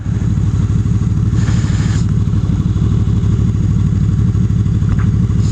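Motorcycle engine running hard at speed, a loud continuous droning roar with steady mechanical clatter and a couple of brief rushes of wind noise, heard close from the bike itself.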